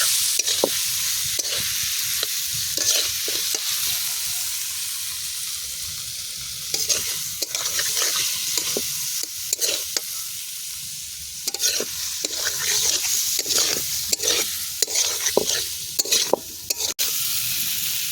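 Spices for a Bengali potato curry (aloo dum) sizzle steadily in a pan while a spatula scrapes and stirs in repeated quick strokes, close and fairly loud throughout, with no talking.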